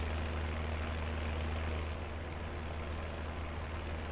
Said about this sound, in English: this poor little tractor don't have enough oomph to do this